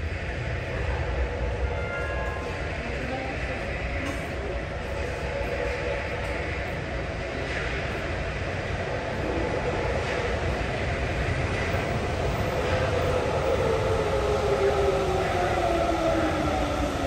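A Sapporo subway train rolling into the platform at Asabu station, a steady loud rumble and hiss of wheels and motors with a rising whine toward the end, echoing in the underground station.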